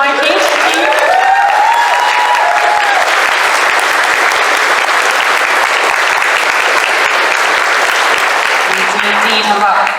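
A lecture audience breaks into sustained applause for the speaker, a loud, dense roar of clapping that holds steady for several seconds, with a voice briefly audible at the start and again near the end.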